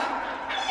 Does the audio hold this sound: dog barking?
yes